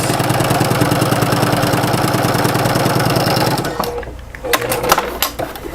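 A sewing machine stitching a French seam runs steadily with a fast, even mechanical hum and needle chatter for several seconds, then stops, leaving faint handling clicks and rustles of fabric.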